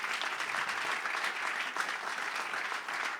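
Congregation applauding at a church service, a dense, sustained burst of clapping from many hands filling the space evenly and steadily throughout.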